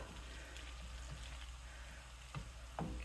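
Warm drained pasta is stirred into sauce in a pan, giving a steady soft sizzle with a couple of louder scraping, clattering stirs near the end.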